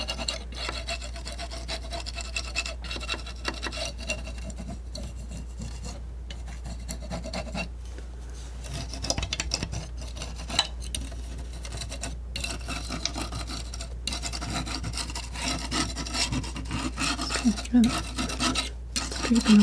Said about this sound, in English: Scraping up the top of these trees here.